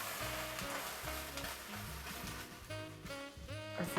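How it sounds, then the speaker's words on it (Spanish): Boiling broth bubbles and sizzles in a heavy, hot roasting tray of beef in adobo. The soft, steady frying hiss sits under background music. "la charola es muy pesada y tiene el líquido hirviendo"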